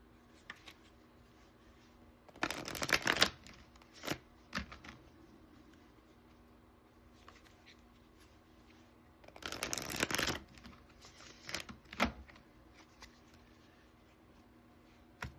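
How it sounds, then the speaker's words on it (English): Tarot cards being shuffled in two quick bursts of riffling, close and crisp, separated by a few light taps and handling sounds in an otherwise quiet room. "I'm gonna pull a few advice cards."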